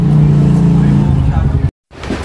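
A newly bought motorcycle arrives with its engine running, a loud, close, throbbing drone that dips in pitch and then cuts out abruptly before faint noise resumes, with people talking over it.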